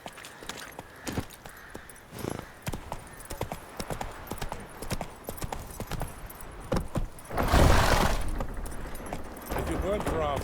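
Hooves of Roach, a horse in The Witcher 3, clip-clop steadily through the clip, joined by a louder burst of game ambience midway, while someone talks over it.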